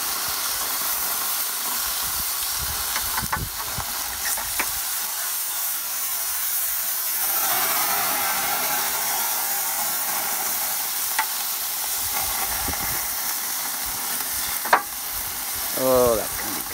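Dorothy's marinade sizzles and hisses steadily in a hot pan, a continuous frying crackle with occasional stirring clatter and a brief louder hiss near the end.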